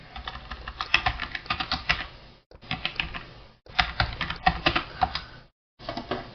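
Someone types on a computer keyboard in quick bursts of close, crisp key clicks, pausing briefly twice between runs of keystrokes, with no talking.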